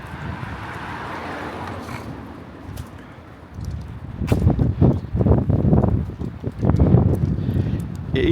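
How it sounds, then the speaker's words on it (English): January wind on a seaside walk at Bognor Regis buffets the microphone, starting as a light hiss and then turning into heavy, rumbling gusts for the second half. "It is windy."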